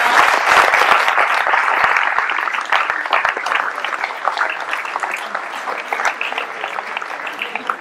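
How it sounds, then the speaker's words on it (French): An audience at a town ceremony in Ploërmel honouring local athletes applauds a champion runner, a dense, sustained burst of many hands clapping that fades slightly toward the end. "Je vous demande d'applaudir Fatima"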